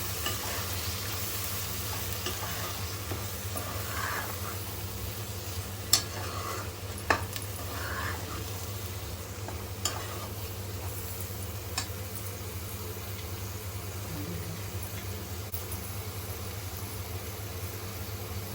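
Egg spinach curry being stirred in a pan, a quiet continuous simmering sizzle with a few sharp spoon clinks against the pan.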